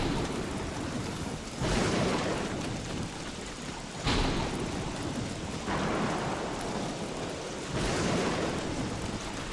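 A thunderstorm with heavy rain rolls through the video game Don't Starve Shipwrecked: a constant rain hiss is punctuated by three loud, broad thunder crashes spaced a few seconds apart, with no voices.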